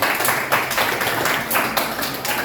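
Students in a classroom clapping together at the end of a lesson, a loose, rhythmic patter of hand claps in uneven pulses, moderately loud and nearby.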